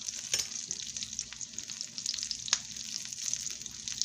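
Biscuits frying in oil in a pan, a soft steady sizzle with crackling spits and a few louder pops, heard up close with no talking.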